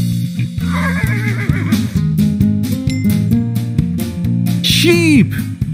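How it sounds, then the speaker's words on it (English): A horse whinnies near the end over a steady bed of children's music, a rising and falling neigh standing out after several seconds of melody. "A horse."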